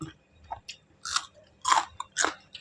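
Crunchy Thai spicy seafood salad (tam lao thale) being chewed up close, a few crisp bursts of crunching spaced apart over a quiet background.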